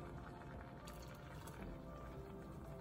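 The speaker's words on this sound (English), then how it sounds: "I'm just going to use the same water from the cooked rich gourd." Cooking water from boiled ridge gourd is poured into a pot of dal, a faint, continuous liquid trickle and splash under kitchen background noise.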